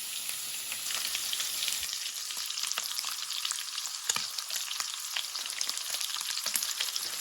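Steady crackling sizzle of pork belly fat rendering in a hot pan, with dense spitting pops throughout, close and fairly loud, no voices.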